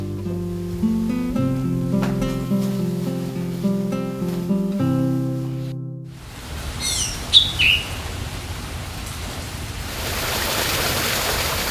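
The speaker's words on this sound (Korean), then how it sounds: "청아하게 물 흐르는 소리며 새들이 지저귀는 소리" After a stretch of music fades out, a few bright bird chirps ring out over soft rushing water at a Korean mountain temple at night, fairly faint and sparse.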